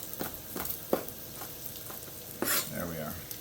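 Vegetables for breakfast burritos fry in a pan with a constant sizzle, broken by a few scraping stirs and a louder burst of spatula movement near the end, close and clear with no voice.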